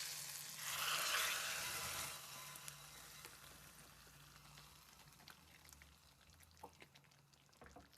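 Hot oil tempering poured into okra gojju on a stove gives a loud burst of sizzling and crackling that peaks early and then fades to a softer, steady fry with scattered pops.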